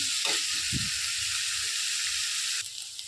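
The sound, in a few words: onions frying in oil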